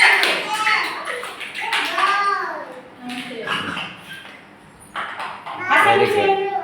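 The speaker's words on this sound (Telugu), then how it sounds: "క్లాప్స్ కొట్టండి, అందరు కొట్టండి, క్లాప్స్ కొట్టండి" Young children clap together in an anganwadi preschool classroom, with scattered bursts of claps mixed under lively children's voices and an adult speaking.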